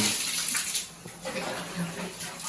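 Water runs steadily down a bathroom floor drain, a continuous splashing gush that fades slightly midway, with a voice faintly in the background.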